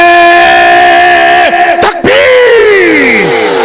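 Large crowd at a religious gathering shouting slogans in unison, loud, sustained massed voices with a brief break midway before the chant resumes.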